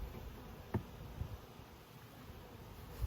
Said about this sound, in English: Bees are going nuts. Loving the heat.